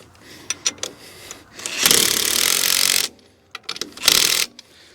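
A nut being tightened down onto a bolt with a flat washer and lock washer on a Hesston 530 round baler gathering wheel, sharp metallic clicks followed by two bursts of buzzing ratcheting, close and loud.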